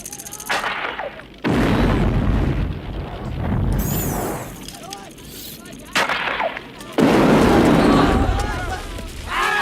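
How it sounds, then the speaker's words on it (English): Heavy booming explosions and rumbling blasts from the film Rambo: First Blood Part II, loud and close, arriving in bursts with gunfire-like crackle between them. "I love big explosions."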